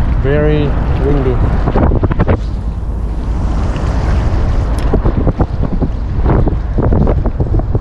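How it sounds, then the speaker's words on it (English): Strong wind buffets the microphone with a loud, constant roar while land-based fishing at Botany Bay, and a voice speaks briefly near the start. "Very windy."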